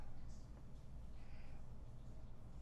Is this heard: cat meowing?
yes